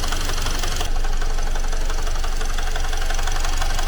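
A car engine right after a rebuild, on a domestic Chinese car, runs with an abnormal knock: a loud, steady rapid clatter close up, with no talking.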